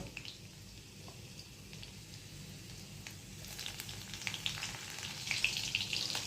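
Chopped green chilli, added after chopped garlic, sizzles and fries in a pan, a steady soft crackle that grows a little busier with stirring, heard close and alone.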